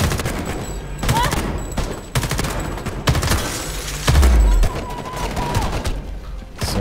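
Bursts of automatic gunfire in the video game Homefront: The Revolution, loud rapid volleys separated by brief pauses, with a heavy boom partway through and game sounds beneath.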